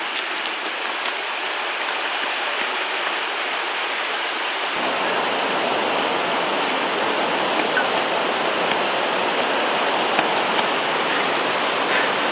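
River water rushes continuously in the wild, a dense, even hiss of flowing water that grows louder and fuller partway through, steady and close with no other sounds standing out.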